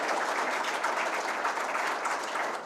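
Sustained applause from a ceremony audience at the opening session of a council in a formal hall, a dense, even wash of many hands clapping at moderate distance with no pause.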